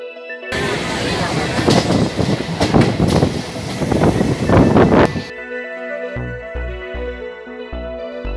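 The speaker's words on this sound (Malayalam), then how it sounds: "ഗിണ്ടിയിൽ നിന്ന് നമ്മൾ ട്രെയിൻ സ്റ്റാർട്ടായി." A suburban train pulls out of Guindy railway station, its loud rumble and rattling wheels mixed with wind buffeting for about five seconds before it drops away and background music takes over.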